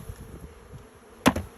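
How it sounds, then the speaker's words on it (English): Honey bees hum faintly during a beehive inspection, a soft low buzz with one brief knock partway through. "Now don't worry when I'm shaking the bees."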